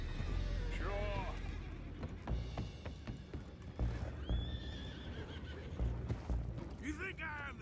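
Horses whinny and neigh several times in the Red Dead Redemption video game, with clip-clop hoofbeats, bustle and distant voices around them, fairly close and repeated.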